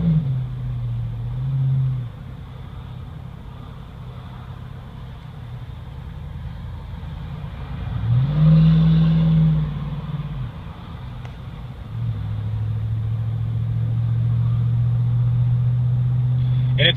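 A 2014 Ram 2500 pickup with the 6.4 Hemi V8 rumbles through its exhaust, holding a deep steady idle, then blipping to a louder rev around the middle and settling into a heavier sustained drone near the end.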